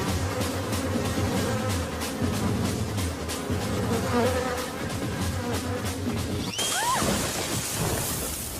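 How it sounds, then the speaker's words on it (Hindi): A honeybee buzzes loudly and continuously in a Bollywood film scene, a close insect drone over a noisy background, ending in a short burst of other sounds. "ये मक्खी नहीं मधुमक्खी है।"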